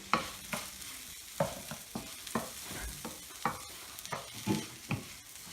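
Paella rice frying in a pan and stirred with a wooden spoon, soft irregular scraping strokes over a low steady sizzle, close and fairly quiet, without speech.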